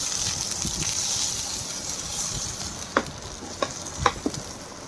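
Tomatoes and green chili fry and sizzle in a pan, a steady soft hiss with a few sharp stirring clinks near the end, close up and without talk.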